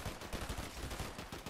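Quick bursts of gunfire in Fortnite, a rapid string of closely spaced shots over about a second and a half, moderately quiet in the mix.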